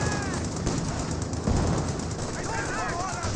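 M1919 machine gun fire during a World War II strategy game battle: rapid, rattling bursts mixed with distant thuds and battle clutter under continuous commentary.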